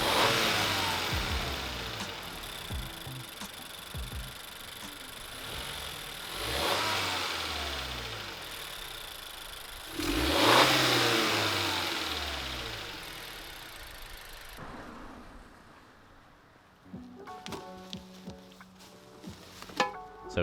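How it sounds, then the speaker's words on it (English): A 2016-2021 Honda Civic 1.5T engine with its stock air box revs repeatedly, each rise and fall of pitch distinct and fairly close, easing toward idle with a few light clicks near the end; no speech. "here's what the stock air box sounds like."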